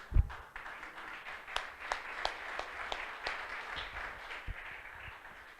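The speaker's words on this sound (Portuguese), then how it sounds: "Uma salva de palmas a ele." A church congregation applauds with soft, scattered clapping that stays fairly faint and distant throughout.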